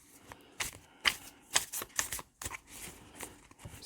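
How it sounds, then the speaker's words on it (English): Tarot and oracle cards being shuffled close by, quick soft riffling bursts and flicks in an irregular rhythm, fairly quiet with no talking. "give you your message after I shuffle all the cards"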